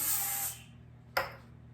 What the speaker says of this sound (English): a roasting pan or a baking pan that's sprayed with some vegetable oil, cooking spray